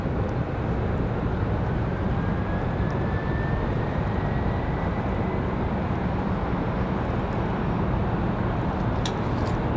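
A PSA Airlines jet from Philadelphia, flight 5398, rumbles steadily at Raleigh-Durham airport, a sustained loud engine roar with a faint rising whine, unbroken throughout.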